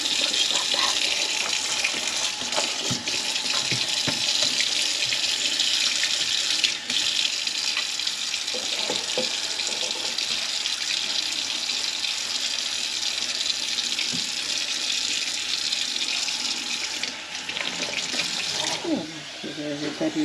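Tap water runs steadily into a sink during a home cleaning session as items are rinsed, a continuous close splashing gush lasting throughout with brief speech over it.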